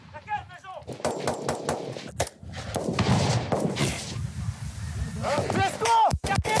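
Gunfire near a house with a blue gate, several sharp loud shots and a rapid burst ringing out between excited voices, with people talking and shouting throughout.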